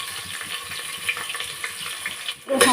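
Chopped onions frying in a pot with whole spices such as cinnamon, cloves and star anise crackle and sizzle steadily up close, ending in a sudden louder burst of hiss, with no talking.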